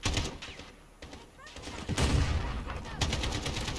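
Rapid gunfire bursts from Call of Duty Modern Warfare, dense volleys and thuds that grow heavier midway, with a voice speaking over the shooting.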